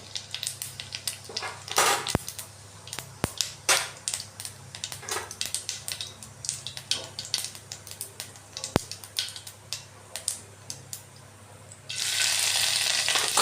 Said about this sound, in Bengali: আমরা এখানে একটু আস্তা জিরা দিলাম আস্তা জিরে দিয়ে দেব